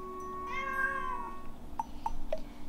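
A Google Home smart speaker imitates a cat, playing one drawn-out, wavering synthetic meow, followed by a few short quiet chirps in a calm indoor room.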